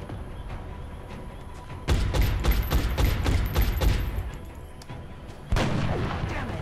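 Bursts of squad gunfire in the turn-based strategy game XCOM Enemy Within, a rapid volley of sharp cracking shots over several seconds, then a second loud burst near the end, with a low background hum.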